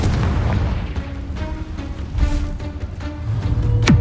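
Confringo blasting spell explosions in the Hogwarts Legacy video game, a loud rumbling barrage of booms and bursts running continuously, ending in a sharp sweeping whoosh near the end.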